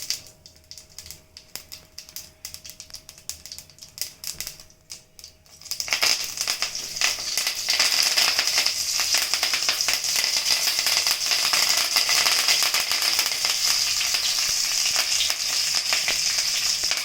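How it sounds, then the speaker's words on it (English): Mustard seeds and a chili spluttering in hot oil: a quiet start with faint clicks, then an abrupt surge of loud, continuous crackling sizzle with rapid popping that holds steady to the end. "Now the mustard started spluttering."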